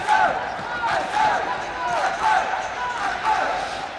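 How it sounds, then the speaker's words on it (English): Young Japanese table tennis players shouting and cheering at a match, bursts of loud group voices rising and falling over a crowded hall with faint ball and crowd noise. "They are really cheering when they can."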